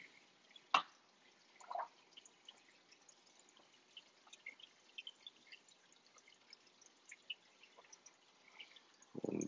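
Water drips and is poured into a measuring container in small amounts for a reef aquarium, with a few scattered faint drops and splashes, a louder drip near the start, and a brief pour at the end.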